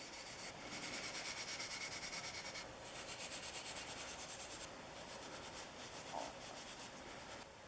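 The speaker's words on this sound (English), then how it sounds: "The light sanding with a sponge is immediately followed up with the steel wool." Steady scrubbing of a sponge and steel wool across an old Winchester No. 3041 transitional wooden smooth plane, a continuous dry abrasive rasp with rhythmic back-and-forth strokes in several bursts, close and fairly even in level.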